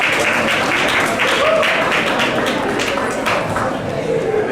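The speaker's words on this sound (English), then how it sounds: "Another round of applause for Dr. Claire Nelson." An awards gala audience applauds with a dense, steady wash of clapping that holds for several seconds without letting up.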